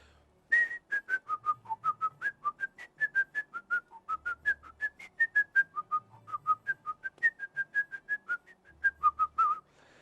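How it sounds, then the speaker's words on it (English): A person whistles part of a traditional Irish dance tune, a lively run of short, clear notes in a quick, bouncing rhythm, close and alone in a quiet room. "So I'm going to whistle the tune, just a part of it."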